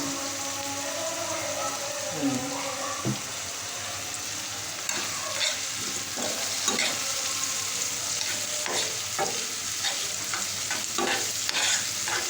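Sliced bitter gourd (karola) fries in an open pan with a little turmeric, giving a steady crackling sizzle broken by repeated scraping clicks of a spoon stirring, with no talking.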